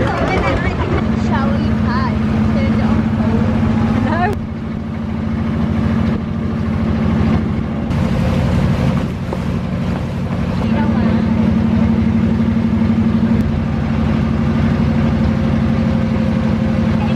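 A small motorboat engine drones steadily throughout on the Mekong Delta, with wind buffeting the microphone and voices talking faintly over the motor.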